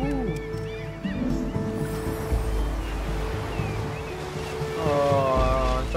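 Gentle sea waves washing on a beach shore in the video game Unravel, a soft continuous surf wash with small tonal game sounds and faint musical chirps over it.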